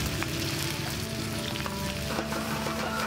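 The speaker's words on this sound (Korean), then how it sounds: "불맛 살려 볶아주는데요." Octopus and chopped vegetables stir-fried with sauce over high heat, giving a loud, dense, continuous sizzle with faint stirring scrapes throughout.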